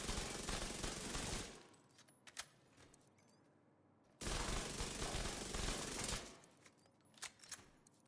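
Vector submachine gun firing in a video game, two long sustained bursts of rapid automatic fire separated by a quiet gap, with a few scattered single shots and clicks after each burst.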